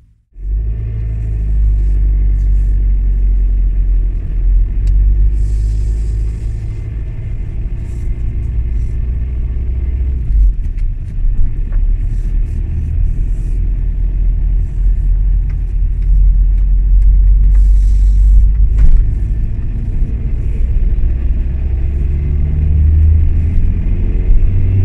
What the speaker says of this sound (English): it's time to start up the car and drive it so it gets warm again